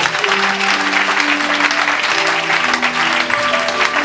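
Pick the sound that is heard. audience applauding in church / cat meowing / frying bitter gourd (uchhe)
audience applauding in church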